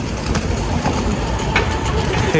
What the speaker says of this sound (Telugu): ఎవ్రీ మినిట్ ఒక ట్రైన్ వెళ్తున్నట్టు చాలా పెద్ద స్టేషన్ అనమాట అది